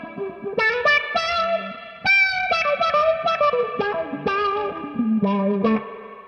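An electric guitar played through boost and distortion pedals rings out in bright, sustained chords and riffs with a chorus-like shimmer and reverb, loud and clear with no talking.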